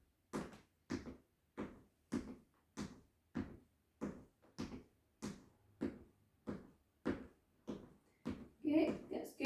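Floor creaking under marching feet during a home cardio rehab workout, a steady rhythmic series of about fifteen evenly spaced thuds and creaks, fairly close, with a louder burst at the end.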